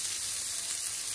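Half an onion hits a hot pan for a Bengali salmon fish curry, giving a brief, bright, steady hiss of frying with no voices.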